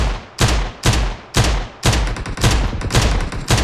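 Loud close gunfire from a heavily recoiling weapon in the shooter PUBG Mobile, about eight heavy shots in a steady rapid rhythm, each a sharp blast with a booming tail, alone with no talk.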